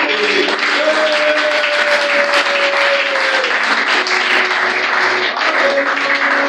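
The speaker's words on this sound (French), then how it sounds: "porte une acclamation au Seigneur pour la parole" Church congregation applauding and cheering the Lord during a sermon, a steady dense wash of clapping with voices and held shouts mixed in, loud and continuous throughout.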